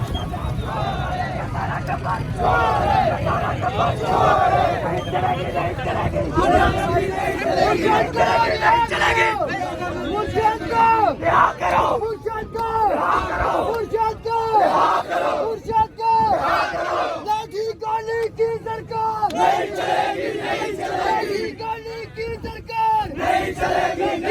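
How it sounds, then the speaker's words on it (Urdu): Political protesters gather on a street after an arrest, and a dense crowd chants slogans loudly and continuously for the whole stretch, with voices rising and falling together over a constant crowd roar. "اور نعرے بازی کی جا رہی ہے"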